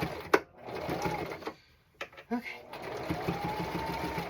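A sewing machine stitches black striped pants in short bursts of steady whirring, with a pause in the middle. It sounds close and runs under a woman's occasional speech.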